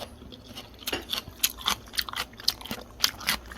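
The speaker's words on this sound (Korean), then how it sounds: "아삭아삭 씹어먹는" Crisp, crunchy chewing of fresh summer salad with tomatoes, with repeated bites crackling close to the ear in an irregular rhythm, no talking.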